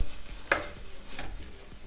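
Tomatoes and sausage sizzle in a pan as they are stirred, with one sharp scrape of the spoon across the bottom and a steady soft hiss of frying underneath.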